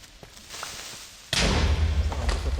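A sudden loud, low explosion-like boom bursts in after quieter thumps, leaving a rumbling noisy tail, as an Elemental Creeper explodes in modded Minecraft.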